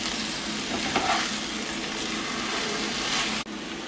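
Okra fry being stirred with a spice paste in a pan, giving a steady loud sizzle with scraping mixing strokes, ending in a brief clatter near the end.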